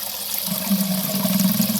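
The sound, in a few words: pond filter water trickling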